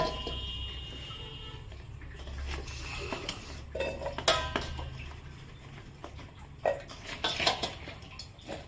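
Metal bowls clinking and clattering in a handful of sharp knocks, close up, with softer scraping between them and no talking.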